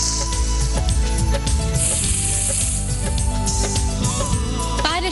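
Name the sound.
ghee tadka sizzling in a pan, tempering spices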